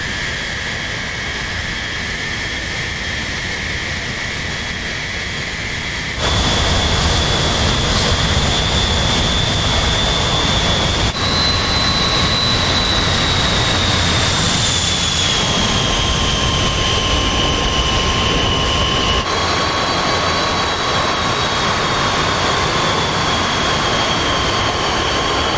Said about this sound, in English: First bomber taking off, running up the engines, doing his tests.